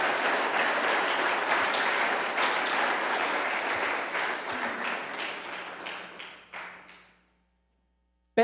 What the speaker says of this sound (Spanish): ¿Usted cree que eso se merece un aplauso, hermanos?